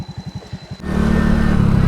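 A motorcycle engine climbs a mountain road in the Caraballo Mountains of the Philippines. Loud and close, it chugs in quick, even pulses, then surges into a steady, throbbing rev.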